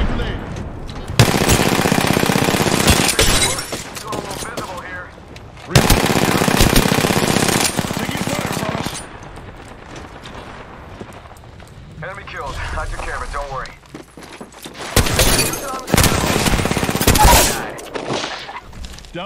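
Heavy automatic gunfire in the Apex Legends battle royale shooter comes in several loud, sustained bursts separated by shorter pauses, with in-game voice callouts and combat noise between volleys.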